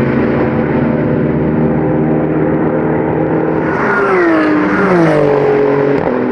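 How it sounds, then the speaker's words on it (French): Renault RS01 race car from AB Autosport passing a Mercedes at Magny-Cours during a ROSCAR 100 race: a loud sustained engine roar, then a sharp falling pitch sweep near the end as the car rushes past, with no talk. "Le pilote de la Renault RS01 d'AB Autosport dépasse la Mercedes de Race TV."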